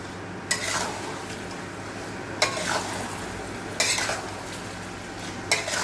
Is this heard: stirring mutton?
yes